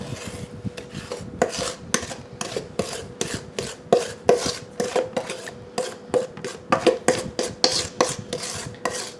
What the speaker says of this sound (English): We're going to mix the liquid into the flour.